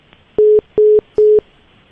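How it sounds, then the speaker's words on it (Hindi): Three loud, even telephone dial-tone beeps of about a quarter second each, evenly spaced and alone without talk, sounding as a phone number is redialed. "अब यही नंबर रीडायल कर रहा हूँ मैं"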